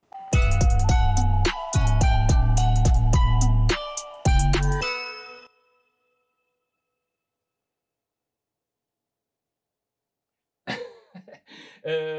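A short podcast show jingle plays loudly for about five seconds, with bright repeated chime-like notes over a thumping beat, then silence before brief rustling and talk near the end.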